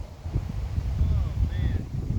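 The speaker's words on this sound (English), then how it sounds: "I got a headwind from hell" Strong headwind buffets the microphone on a hillside disc golf course, a low rumbling roar that swells and gusts continuously throughout, with faint whistling tones above it.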